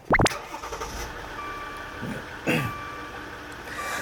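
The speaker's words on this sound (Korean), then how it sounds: "자, 이어서 시동 한번 걸어볼 건데요." The 3000cc diesel engine of a 2017 Maserati all-wheel-drive SUV starting up, with a sharp burst of noise at ignition followed by a steady close idle.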